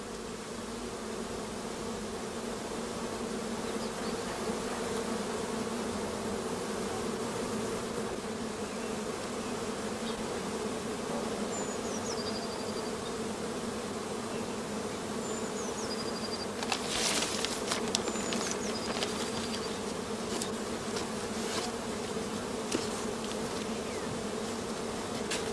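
Dense, steady droning hum of a honeybee colony at an apiary near allotment gardens, continuous and close, with occasional faint bird chirps and a brief burst of rustling partway through.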